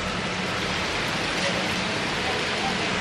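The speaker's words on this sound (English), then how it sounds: "Yeah, that's a lot of rain." Heavy rain pours down in a dense, unbroken hiss of broadband noise at steady loudness, close and continuous, with no distinct drops standing out.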